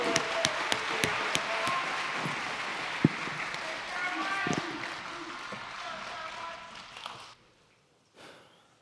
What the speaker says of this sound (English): Please give your applause